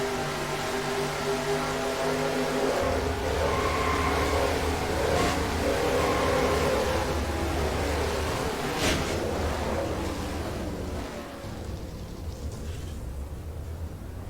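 A race truck in the NIRA M&M's Truck Series sim race at Phoenix drones steadily from an onboard view, a continuous loud engine roar with shifting pitch and no speech.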